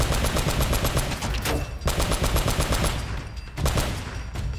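Rapid automatic gunfire in Uncharted: Drake's Fortune rattles in dense, rhythmic bursts with brief gaps, loud and close, and sharper single shots punctuate the stream, with no talking.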